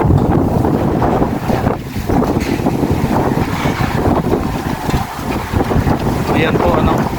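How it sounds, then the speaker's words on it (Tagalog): Strong wind buffets the microphone in a loud, continuous roar with rumbling gusts at a waterside spot near a tower, with the faint wash of water and brief voices mixed beneath it. "Grabe ang hangin po ngayon dito."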